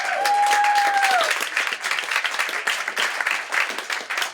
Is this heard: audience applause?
yes